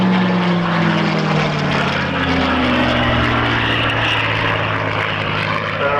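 A Spitfire propeller fighter flying at an airshow at Matamata Airfield, a loud, close engine drone with a shifting pitch as the aircraft passes, steady throughout.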